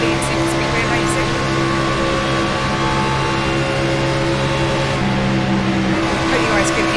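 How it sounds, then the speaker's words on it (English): A NASCAR Cup race car engine roars steadily and very loudly in the iRacing superspeedway racing game at Talladega, a constant drone throughout with talk faintly beneath it. "Hope you guys can hear me over this very loud car."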